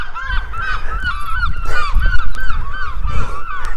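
Geese honk over and over outdoors on a walk around a neighborhood block, loud and close, with overlapping calls in a steady chattering stream and no talking.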